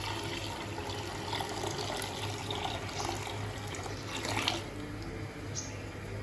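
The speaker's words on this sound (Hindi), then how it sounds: "दूध डालेंगे।" Milk poured into a cooking pot while making Lab-e-Shireen, a creamy Arabian fruit dessert, giving a steady, continuous liquid splash and trickle with a low background hum throughout, briefly swelling near the end.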